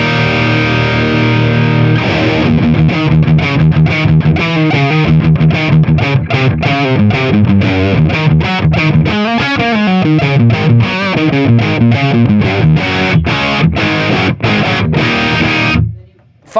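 A guitar runs through a NEXI Industries 70's Overdrive pedal with the gain turned fully up, giving a loud, continuous, distorted and compressed tone with steady strummed and picked notes that cut off abruptly near the end.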